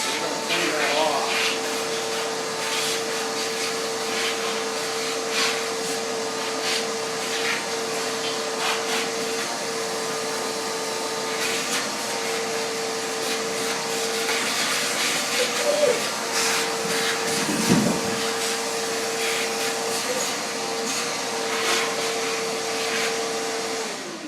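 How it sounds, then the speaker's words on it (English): A shop vac runs steadily and loudly, sucking nasty crud out of the valve covers on a 289 engine during a rebuild, with a constant drone and whine and a brief dip in airflow near the end. "Shop vac"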